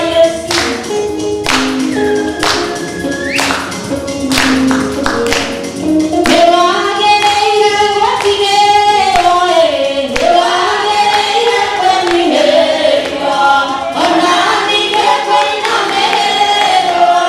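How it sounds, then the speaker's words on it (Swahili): Congregation at a Kikuyu Sunday church service clapping for Jesus, loud and continuous, with rhythmic hand claps blended into music and singing throughout. "tiga makofi kwa Yesu."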